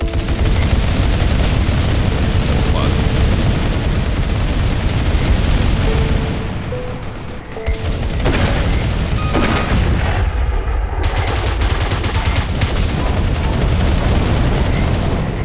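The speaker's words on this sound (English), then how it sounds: "Double airstrike for the win." Double airstrike in the mobile shooter Tacticool, a dense, loud barrage of booming explosions and gunfire that rolls almost continuously, briefly dipping before surging again, with no talking over it.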